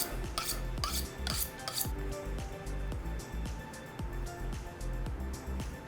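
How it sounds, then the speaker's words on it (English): A knife blade is stroked along a sharpening steel during pork prep for smoked kalua barbecue. It makes close, repeated metallic rasping swipes, brighter at first, over a faint low hum. "go ahead and break out the sharpening steel and straighten it up"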